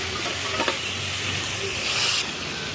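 Spice paste with tomato sautés hard in a pan for chicken bhuna, a dense, loud sizzle with a few utensil scrapes and a brief surge of hissing steam before it settles.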